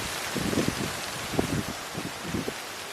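Rain pouring outdoors during a monsoonal storm, a loud dense hiss with gusty wind buffeting the microphone and low rumbling surges, steady throughout with no talking.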